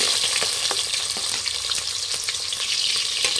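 Two medium onions, sliced lengthwise, fry in oil for chicken biryani, giving a dense, continuous crackling sizzle, close and steady, with occasional faint stirring scrapes.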